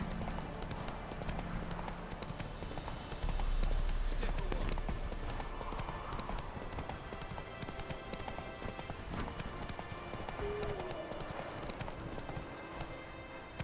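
A horse's hooves clip-clop in a steady rhythm in The Witcher 3 open world, moderately loud and continuous, with faint voices underneath.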